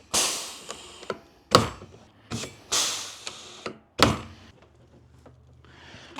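Pop rivets being set into a jon boat casting deck, several sharp snapping clicks and clunks in irregular bursts, close and fairly loud with no talk.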